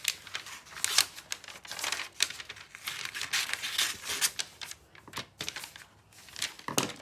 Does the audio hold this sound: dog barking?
no